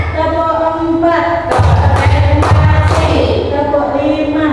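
A group of women clapping hands in a counted pattern during a teacher-training session, with a few sharp, separate claps in quick succession over a voice.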